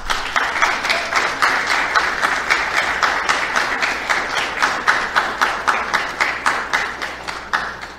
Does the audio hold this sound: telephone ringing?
no